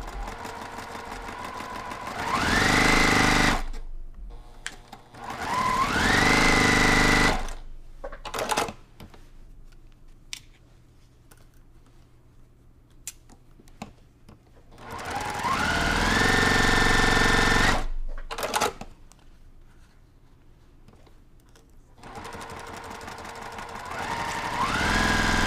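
A home sewing machine stitches a quilt block, two loud bursts of rapid mechanical whirring separated by quiet pauses with small handling clicks.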